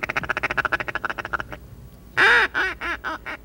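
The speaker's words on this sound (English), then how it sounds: "Eight ducks. They passed along the outer edge of our decoys" Flock of eight wild ducks quacking loudly and close as they fly past the outer edge of a decoy spread on a late-season hunt, after a run of rapid rhythmic wingbeats or calls.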